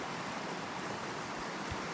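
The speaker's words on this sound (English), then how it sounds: "Beautiful river." A mountain river in the Grand Tetons flows past with a faint, even rush of water that holds steady throughout, and no voices are heard.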